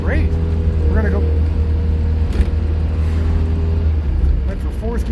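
British-built bubblecar running in third gear, a steady, loud, low engine rumble from inside the car that continues with little change while someone talks over it.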